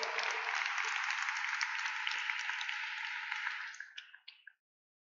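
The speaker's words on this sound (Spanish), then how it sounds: "Demos un aplauso más a Jesús" A congregation at a church sermon bursts into steady, full applause that holds for a few seconds and then trails off into a few last scattered claps before silence.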